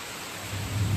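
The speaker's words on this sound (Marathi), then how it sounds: "मित्रांनो पाऊस होता पाठीमागे किती पाऊस पडतोय." Heavy monsoon rain pours down in the Konkan countryside, a dense continuous hiss with a deep rumble swelling underneath toward the end of the brief moment.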